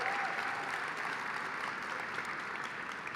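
An audience at a realtors' business conference applauds, producing a dense, steady clapping that fills the room from start to finish with no voices over it.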